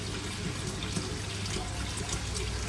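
Water poured and trickling steadily as a child fills it with a new toy, an unbroken liquid stream heard close by throughout, with no talking.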